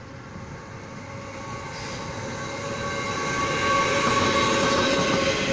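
A push-pull PP train on a Taiwan railway rolls past at close range, a steady rumbling roar with rail noise that swells gradually louder, with no talking.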